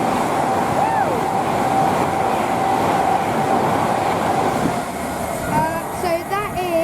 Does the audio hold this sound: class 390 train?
yes